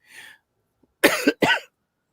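Two sharp, close coughs in quick succession follow a brief murmur, then quiet.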